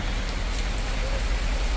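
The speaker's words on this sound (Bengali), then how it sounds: "প্রচন্ড জোরে বৃষ্টিও শুরু হয়ে গেছে" Heavy rain pours down outdoors during a sudden storm, a dense, steady hiss and patter that stays loud and constant throughout, with no talking.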